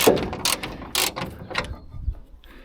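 A wrench turns to tighten a bolt on a vehicle roof rack, giving a few close, loud ratcheting clicks and mechanical scrapes in short bursts with no talking.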